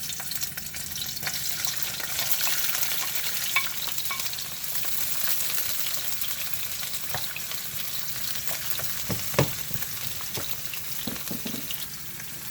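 Vegetables, garlic and sweet pepper sizzle in a pan, a steady hissing fry with occasional clicks and stirring knocks, close and continuous without talking.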